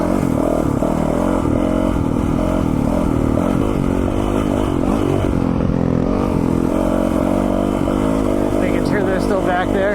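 A 2021 Yamaha YZ450FX four-stroke dirt bike engine runs steadily while being ridden, loud and close with a continuous droning note and some clatter.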